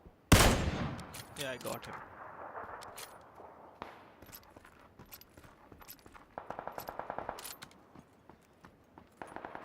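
Gunfire in PUBG, a loud burst of shots at the start followed by scattered single shots and short rapid volleys, heard under someone talking briefly.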